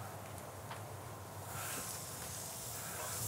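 Aberdeen Angus steak mince burgers sizzle on a hot griddle with no added fat, a steady broadband hiss that swells slightly louder halfway through, close by and without talk.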